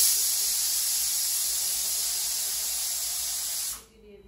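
A pressure cooker whistle blows off steam while papaya cooks for dal with greens, a loud steady hiss that runs for nearly four seconds before cutting off sharply into quiet.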